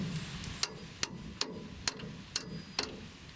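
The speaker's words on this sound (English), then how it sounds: "this bracket is so flexible, it just absorbs the hammer blows" Sharp metallic hammer strikes on a flexible truck brake line bracket land one after another at a steady, unhurried pace, six distinct blows over a quiet background.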